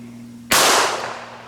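Rifle round fired at a plate made of recycled milk jug plastic, a single sharp, loud crack followed by a brief decaying echo outdoors, with no voices.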